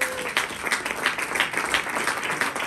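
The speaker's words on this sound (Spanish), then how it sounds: "Regálale una ofrenda de palmas" A church congregation claps together in a steady, dense round of applause that fills the room, close and continuous throughout, with voices faintly mixed in.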